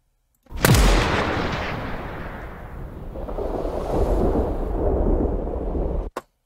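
Designed gunshot effect for a game: a sharp loud crack followed by a long rumbling tail layered with ambient noise that swells and fades, ending in a brief click, no talking.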